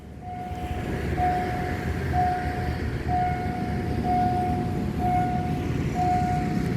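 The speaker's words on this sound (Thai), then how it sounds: "ขบวนที ่ 1116ต้นทางจากนครปฐมปลายทางสถานีธนบุรี เป็นรถดีเซลรางนะตอนนี้ผ่านจุดตัดถนนจรันสนิทวงมาแล้วนะครับ" Diesel railcar train no. 1116 from Nakhon Pathom to Thonburi passing the Charansanitwong railway halt, with a steady engine rumble and a series of evenly spaced horn toots, fairly close and with no talking.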